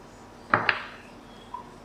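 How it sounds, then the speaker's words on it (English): Seafood dropped back into a pan while cooking Thai rad na noodles: two quick clattering hits close together, then a fainter clink a moment later, with no talking. "Put the seafood back into the pan"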